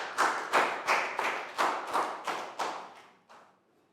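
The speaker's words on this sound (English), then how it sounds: "Big round of applause because everybody did the quadrilaterals very well." Around nine slow, evenly spaced claps from a small group of people, each a sharp thump that decays, gradually fading out, for students after a Year 3 maths lesson on quadrilaterals.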